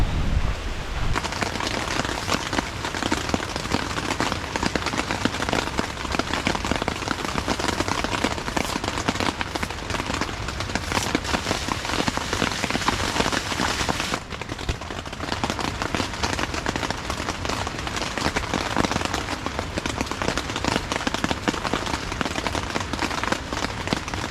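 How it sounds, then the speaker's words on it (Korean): Heavy rain pours at a campsite in Gariwangsan Natural Recreation Forest in Jeongseon, Gangwon-do, a loud, dense, unbroken hiss of drops pattering on surfaces throughout, with no talking. "비가 많이 오고 있네요."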